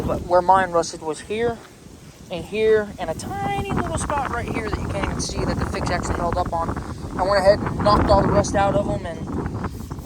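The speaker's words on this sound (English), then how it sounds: "I'm sorry about the wind, guys. It is very windy." Wind buffets the microphone in a steady low rumble beneath someone talking continuously, growing gustier in the second half.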